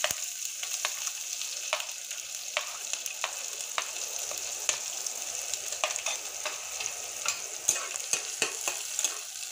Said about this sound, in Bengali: এখন আমি পেঁয়াজ কুচি দিয়ে দিচ্ছি।